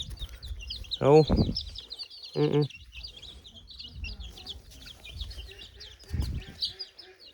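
Local chickens and their chicks cluck on a farm in several close, rhythmic bursts with a steady chatter of small chirps between them, and a voice talks faintly at times.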